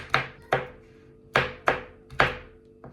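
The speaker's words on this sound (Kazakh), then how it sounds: "Енді жаңғағымызды тураймыз." A knife chops walnuts on a board while a Kazakh-style oriental pie is prepared, giving five sharp, close thunks in an uneven rhythm, each ringing briefly and then fading, with nobody speaking over them.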